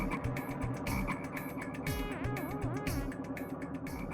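Frogs croak in a dense, continuous chorus of rapid, rhythmic pulsing calls, loud and close, with no talking.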